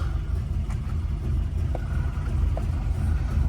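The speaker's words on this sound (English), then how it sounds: "Engine's quite lumpy, especially when it's hot. Does settle down to a nice idle." A 1972 Ford Escort Mexico with a lumpy cam idles close by, its low, uneven engine rumble steady throughout with no talking.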